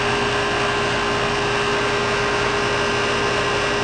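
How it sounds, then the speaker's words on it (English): A small radio control autogyro's teetering rotor head spins on test, giving a steady, continuous whirring hum with a high-pitched tonal whine throughout and no talking. "This is a test of the Mia Microflight teetering or fully articulated rotor head for small radio control autogyro."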